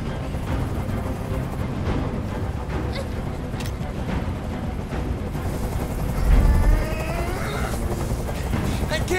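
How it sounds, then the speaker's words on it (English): A helicopter hovers overhead during a hostage standoff in Detroit: Become Human, its steady rotor drone filling the background beneath raised voices and other scene noise. "Tell that helicopter to get out of here."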